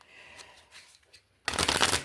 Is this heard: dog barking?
no